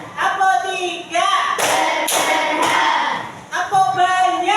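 A class in a school training session claps a counted pattern: three sharp bursts of group clapping in quick succession, with children's chanting voices rising before and after them.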